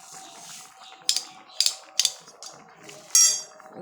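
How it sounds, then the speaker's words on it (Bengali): A spoon clinks against a pot while stirring sugar into milk rice pudding, with about five sharp metallic taps and scrapes spaced irregularly over a soft background hum. "দিয়ে এখন একটু নাড়াচাড়া করবো"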